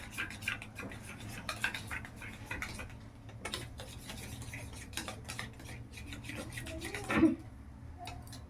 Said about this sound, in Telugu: తర్వాత కొత్తిమీర వేసుకొని దీన్ని బాగా కలిపేసుకోవాలి